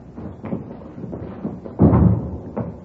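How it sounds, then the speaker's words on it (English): A door opened and closed in a radio drama scene, heard as faint shuffling and then a single dull thump near the middle, with a short knock afterwards. "Here, I'll get the door."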